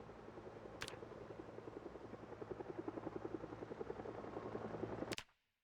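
Helicopter passing in a zombie video game: a steady, rapid rotor chop builds in loudness, with two sharp clicks near the start and end, before cutting off abruptly.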